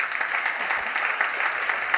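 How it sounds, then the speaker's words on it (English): At a climate services general assembly, the audience applauds the four panelists with continuous, even clapping at moderate volume and no voices on top. "I ask a round of applause to the 4 panelists"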